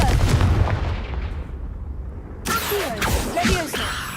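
Confringo spell fired in the Hogwarts Legacy video game, a sharp loud blast that rumbles and fades, followed by further crackling impacts and whooshing effects.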